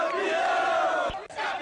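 Paranavaí football supporters celebrate a Paraná state championship title at Vila Capanema stadium, with a loud sustained crowd roar and chanting, unbroken apart from a short dip near the end.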